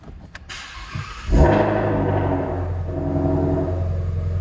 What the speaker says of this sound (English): Car should start right up.